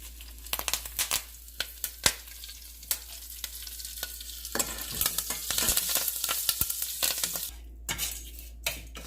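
Curry leaves frying in hot oil with asafoetida for coconut chutney, spattering in loud bursts of crackles over a steady sizzle, with a few stirring scrapes in the pan, close up.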